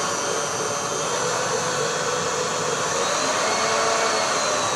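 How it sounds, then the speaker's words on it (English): An electric whisk beats tea cake batter made with natural vanilla, giving a steady, loud whirring drone that holds at an even pitch throughout with no pauses and no talking. "So now I'm giving it a little higher whisk"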